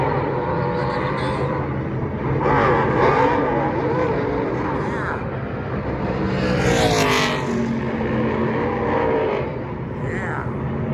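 NASCAR trucks roar off pit road at Las Vegas, a dense wall of engines revving and accelerating, with individual trucks swelling louder as they pass close by.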